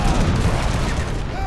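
Dense, overlapping booms of cannon and culverin artillery fire during a battle in Age of Empires 3, sustained and loud throughout with scattered battle noise layered on top.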